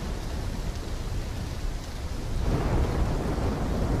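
A thunderstorm in the video game Call of Duty Black Ops 3, with steady heavy rain and a deep rolling thunder rumble that swells louder partway through, with no speech.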